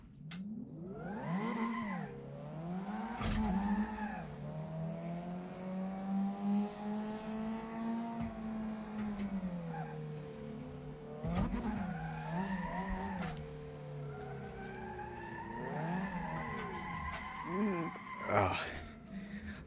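BMW M3 drifting on a Suzuka-style track, a loud sustained engine howl rising and falling with revs alongside skidding, squealing tyres, close and continuous with brief bursts of louder noise.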